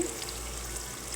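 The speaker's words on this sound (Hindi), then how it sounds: "अब इसमें हम थोड़ा सा पानी डालेंगे" Water poured into a pan of roasted eggplant on a stove at medium heat, a steady soft stream with gentle splashing and bubbling, fairly quiet and close, with no talk.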